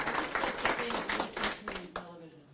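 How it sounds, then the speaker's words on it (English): An audience at a school board candidate forum claps for a couple of seconds in a burst of dense, fairly close applause that thins out and fades away near the end. "So we could have a round of applause and thank them for their willingness to serve"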